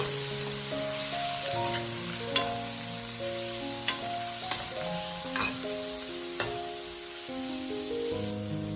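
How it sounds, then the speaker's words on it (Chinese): Pork ribs stir-fried in a wok with caramelized sugar coloring, a steady hiss of frying under repeated spatula taps and scrapes, while sustained musical tones play in the background, no speech. "接下来加入我们刚才炒好的糖色，继续翻炒，给它上色"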